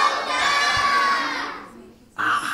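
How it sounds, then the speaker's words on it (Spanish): Children's voices shout together in a loud, sustained crowd yell at a live children's tribute concert, fading out and then a brief burst of cheering returns at the end. "Por último, vamos a gritarle a la flauta, a la de tres y ya."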